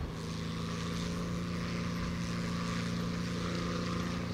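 The piston engine of a P-40 propeller fighter in War Thunder drones steadily and loudly at constant power, a deep rumbling hum with no breaks or talk.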